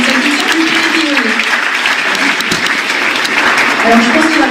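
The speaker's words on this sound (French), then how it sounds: "on peut encore les applaudir et on les remercie" Audience applause at a New Year's greetings ceremony in France, a continuous, fairly loud patter of many hands clapping, with voices talking over it.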